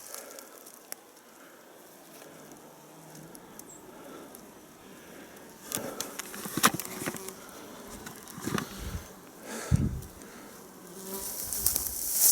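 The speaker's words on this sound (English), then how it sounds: "still houseflies buzzing around everywhere" Houseflies buzzing around in a cooling bog, a thin persistent drone at first, then several louder passes as flies zip close to the ear in the later seconds.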